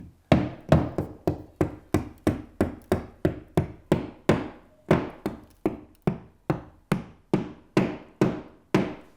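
A long run of sharp, evenly spaced hammer taps driving wall anchors flush, about twenty in quick succession, each a crisp metallic knock that dies away fast, close by.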